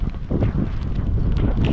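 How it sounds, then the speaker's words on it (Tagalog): Strong wind at a beach camp by a bonfire, a steady loud rushing buffet across the microphone with gusty low rumble throughout. "Malakas ang hangin,"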